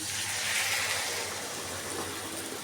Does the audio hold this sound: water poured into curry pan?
yes